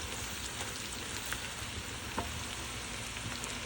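Onions and potatoes frying together in a pan, a dense, continuous sizzle close up, with a few faint scrapes and ticks of stirring on top.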